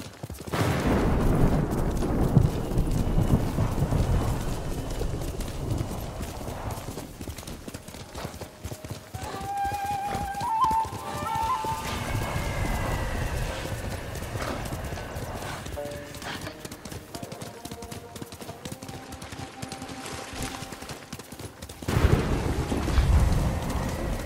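Horse hooves clip-clop steadily through a Ghost of Tsushima game scene, a continuous rhythmic patter under ambient wind and occasional tonal game music, with a brief whinny-like cue; no voices.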